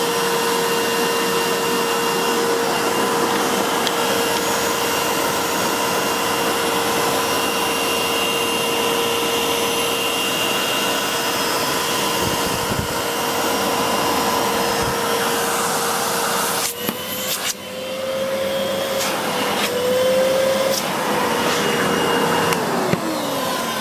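Hoover Purepower U3330 upright bagged vacuum cleaner from 2000 running steadily: a loud, continuous motor whine and airflow roar with a constant tone, shifting slightly in pitch near the end as it is moved.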